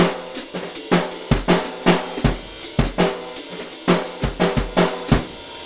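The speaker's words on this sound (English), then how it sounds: "you can incorporate it, let's say, into a drum beat that you're using the ride cymbal and the snare drum for" A drum beat played on the ride cymbal and snare, with hi-hat foot stomps mixed in, runs as a steady, close, loud rhythmic pattern of sharp hits with no talking.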